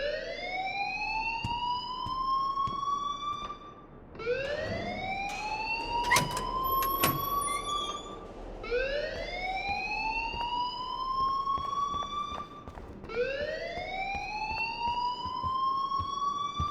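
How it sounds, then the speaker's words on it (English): A school fire alarm in Life is Strange Remastered wails in repeated rising sweeps, four long cycles, loud and continuous, with a few sharp clanks in between. "please turn off that alarm since that's your job"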